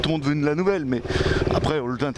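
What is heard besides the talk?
No distinct noise like a dog, phone or traffic.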